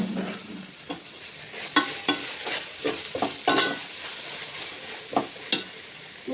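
Onions sautéing in a pan for a chicken curry, soft sizzle underneath a series of sharp scraping and tapping strokes as a spoon stirs them, about a dozen distinct hits.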